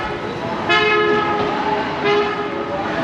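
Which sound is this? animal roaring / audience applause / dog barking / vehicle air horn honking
vehicle air horn honking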